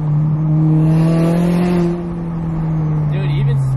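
A turbocharged Toyota GR86 revs and accelerates with a steady droning engine note while its tires spin, close and loud, with faint voices underneath.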